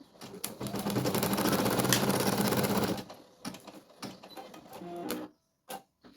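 Computerized embroidery machine stitching the outline of a nose onto a plush baby comforter in a 13x18 cm hoop; a dense, steady mechanical needle chatter runs for about three seconds, then breaks into short intermittent bursts and pauses.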